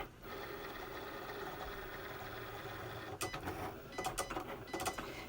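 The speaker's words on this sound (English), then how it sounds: "I'm just going to let the machine do the cutting." Cricut Explore Air cutting machine slicing paper for a birthday card: a quiet, steady mechanical whir, then a run of rapid clicking and ticking as the carriage moves, heard alone.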